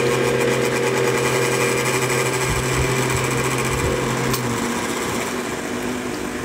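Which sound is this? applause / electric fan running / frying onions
electric fan running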